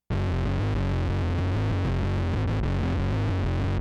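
A thick, fuzzy distorted bass guitar through a fuzz pedal plays a short riff, rich and buzzing, with no voices over it.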